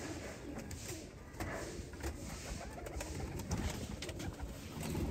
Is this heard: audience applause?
no